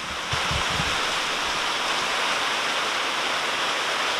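Rainwater pouring heavily onto a flooded back porch of an old Florida home, a dense continuous rushing splash, loud and close, with a few low knocks at the start.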